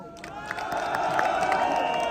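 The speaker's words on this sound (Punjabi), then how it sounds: "ਤਾੜੀ ਲਾਓ" A crowd at the Talwandi Sabo fair in Punjab cheers and claps, with a rising wash of voices and scattered claps over a steady tonal drone, heard at moderate distance.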